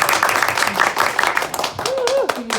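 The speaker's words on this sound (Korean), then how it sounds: "강사님께 다시 한 번 더 큰 박수." Clapping from a seminar audience at a company headquarters event, honoring the lecturer, steady and fairly close; a voice speaks over the applause and a short whistle-like tone rises near the end.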